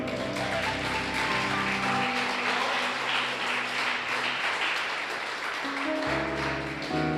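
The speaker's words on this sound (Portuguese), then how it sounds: "Vamos aplaudir o Senhor" Congregation applause during a church sermon, a continuous wash of clapping laid over sustained musical chords that shift in pitch, steady and fairly loud throughout.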